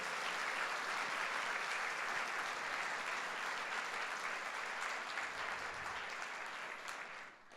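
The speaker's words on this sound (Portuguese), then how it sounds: "vamos dar um aplauso ao Senhor pelo seu amor" Congregation at a Sunday church service applauding: broad, continuous clapping from many people, fairly distant and uniform, fading off near the end.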